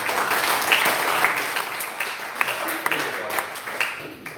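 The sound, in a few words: conference audience applause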